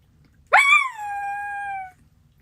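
A person imitates a dog howling, giving one loud rising yelp that settles into a long, steady, mournful tone lasting over a second before it cuts off, with near silence around it.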